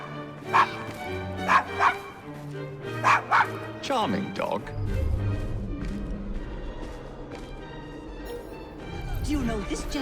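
Short barks and yips from a small dog in Assassin's Creed Syndicate come in a quick cluster at the start, and a voice speaks over the ongoing game ambience.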